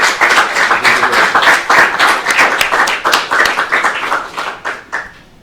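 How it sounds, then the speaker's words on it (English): A panel discussion audience applauds the speakers with loud, close, distinctly separate hand claps in an uneven rhythm that gradually thins and fades out near the end. "let's give a round of applause to our speakers."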